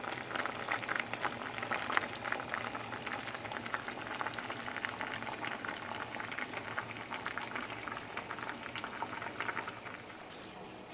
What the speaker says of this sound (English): then let that go on a rolling boil until everything is nice and tender